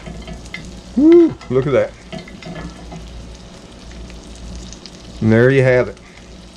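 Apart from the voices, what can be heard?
New York strip steak frying, basted with butter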